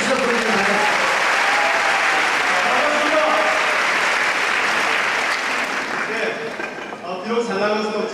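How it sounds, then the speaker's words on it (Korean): A large audience at a Korean labour union concert and rally breaks into sustained, dense applause to welcome a guest; the clapping holds steady and loud, then thins near the end as a voice begins speaking over it. "자, 우리 동지 여러분 힘찬 박수로 대경실업 총리를 환영합니다."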